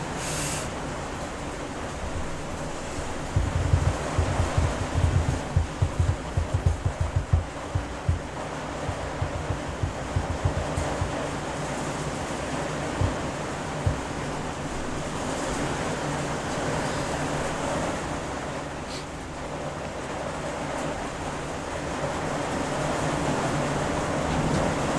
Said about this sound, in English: Sorry for the rain noises.